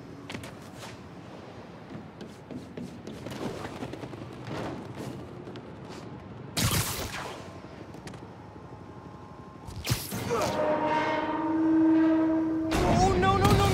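A train moving along tracks in the video game Spider-Man: Miles Morales, with rumbling carriages, a loud burst midway, then a rising horn-like tone and heavier rolling noise toward the end, mixed with game effects.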